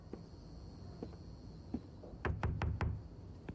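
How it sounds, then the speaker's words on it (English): A series of knocks on a door in the video game The Bookwalker: a few scattered soft taps, then four sharp, evenly spaced raps close up against a quiet background. "We can knock on people's doors"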